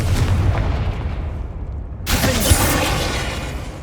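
A Confringo spell in Hogwarts Legacy goes off as a loud, booming burst that erupts midway, with rumbling game action before it and a bright crackling blast trailing after.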